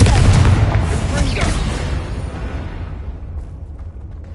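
A magical blast from a Confringo spell in Hogwarts Legacy, one loud booming explosion right at the start that rumbles and fades away over several seconds.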